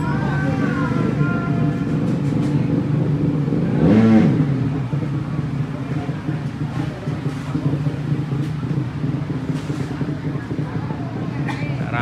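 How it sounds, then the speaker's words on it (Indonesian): Racing motorcycles idle and rev in a busy paddock at the IDC 2023 final, a loud continuous engine drone with one sharp rev swelling midway, amid crowd noise. "Ini motor-motornya."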